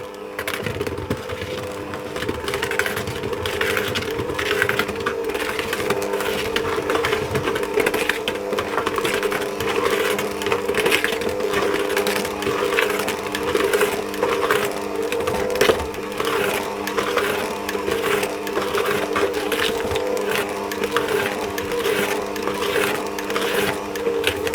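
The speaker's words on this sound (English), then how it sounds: "I'm going to mix that around on a low speed until it starts to come together" A stand mixer churns soul cake dough with raisins on low speed, a steady mid-level mechanical hum with faint rhythmic knocking and grinding, continuous throughout with no talking.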